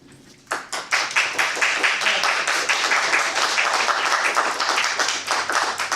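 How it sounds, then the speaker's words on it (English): Audience applause at a Toastmasters meeting breaks out suddenly, dense overlapping hand claps filling the room and holding steady for several seconds, close and lively. "Thank you for the applause"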